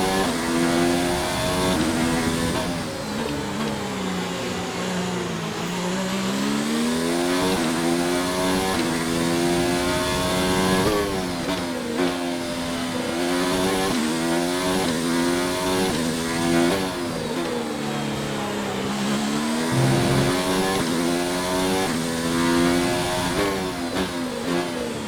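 Formula 4 race cars at the Russian Grand Prix, each powered by a 1.6-litre V6, roar continuously with loud, sustained engine notes that rise and fall through gear changes and passing cars, with no talk over it.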